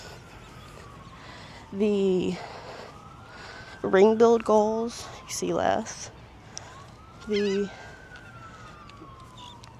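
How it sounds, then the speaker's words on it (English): Emergency vehicle sirens pass by outdoors, a faint, sweeping wail rising and falling in the background while a person keeps talking over it. "You got some sirens going by."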